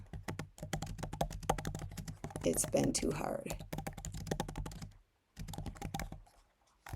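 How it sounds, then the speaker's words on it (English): Rapid clattering keystrokes on a computer keyboard run steadily beneath a person talking, pausing briefly near the end. "Pardon my typing."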